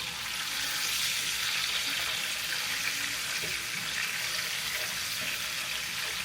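Pork chops sizzle in a hot pan while being flipped, a steady, fairly soft frying hiss with a few faint shifts and clicks, and no voices.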